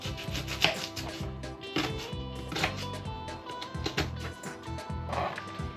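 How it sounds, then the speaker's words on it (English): A knife chops through one small onion for a marinara sauce, landing a steady run of close cutting strokes on a board while background music plays throughout. "we're just going to chop up 1 small onion"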